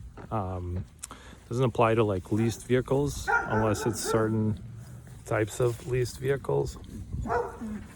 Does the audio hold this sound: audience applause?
no